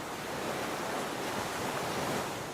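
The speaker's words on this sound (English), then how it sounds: "listen to the waves lap onto the shore" Ocean waves wash steadily onto a palm-lined shore, a continuous broad hiss of surf with wind noise, even and unbroken throughout.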